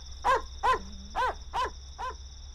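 Five evenly spaced, fairly loud dog barks with a wailing, howl-like tone ring out in a Hindi-dubbed action film, with no talking over them.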